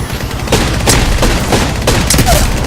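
Rapid bursts of gunfire in a shooter video game, several sharp cracks in quick succession over a rumbling low background, loud and close.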